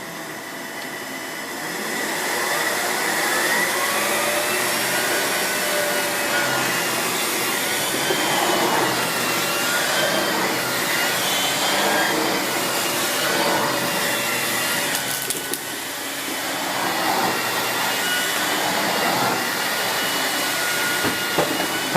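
A Miele S8730 HEPA cylinder vacuum cleaner runs on carpet with a loud, steady whine and a rushing airflow. Its tone shifts slightly as it moves over the floor, and it keeps going for the whole stretch.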